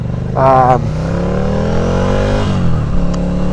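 A Ducati Scrambler Nightshift motorcycle revs loudly and close while being ridden, its engine note climbing and falling through the gears, with a voice briefly heard over it.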